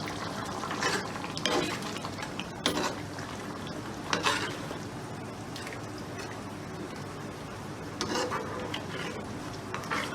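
Spoon stirring chicken Manchurian sauces (soy, chilli, vinegar, barbecue) together in a pan, a steady scraping and soft sizzle with a few louder clatters against the metal, close and fairly quiet.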